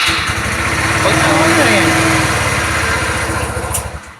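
A carburetor-type motorcycle engine on a cold day runs close and loud with a rough, rapid putter that wavers, briefly surges, then cuts off, while someone speaks a few words over it.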